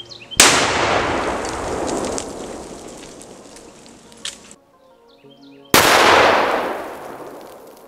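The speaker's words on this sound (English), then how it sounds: "The flash powder nail bomb had a far larger explosion despite it being less powerful than a Monol." A flash powder nail bomb detonates outdoors with a sudden loud blast and a long, crackling, hissing decay. A second similar boom follows a few seconds later.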